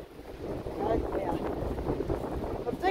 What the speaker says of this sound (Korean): 갑자기 내오니까 바람 터지죠?